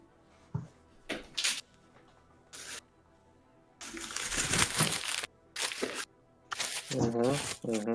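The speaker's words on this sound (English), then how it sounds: "I'm opening a package of cheese." A crinkly plastic cheese package is torn and worked open in short, loud bursts of crackling and rustling, broken by pauses, with a voice speaking briefly near the end.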